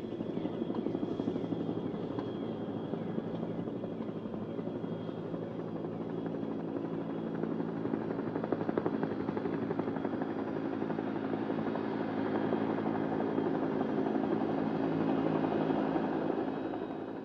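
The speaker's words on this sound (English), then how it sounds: "the helicopters are on their way to resupply the forts." A military helicopter resupplying jungle forts drones steadily throughout, its rotor chop a continuous thrumming hum at constant, moderate loudness with no voices.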